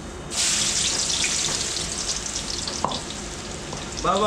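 Chopped garlic sizzling in hot cooking oil in a restaurant kitchen, a loud steady frying hiss that starts suddenly and continues close up with light scraping from stirring.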